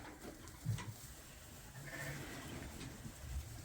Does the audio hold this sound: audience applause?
no